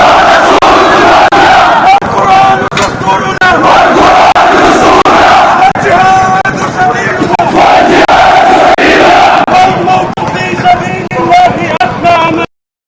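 A large crowd chants slogans in unison at a Palestinian funeral, loud and sustained with a rough, rhythmic roar of many voices that runs without a break until it cuts off abruptly.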